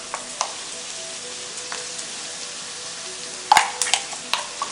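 Spice paste of coriander, ginger, garlic, tomato and chilli frying with chicken for a spinach curry, a soft steady sizzle with a few sharp clatters and stirring knocks toward the end.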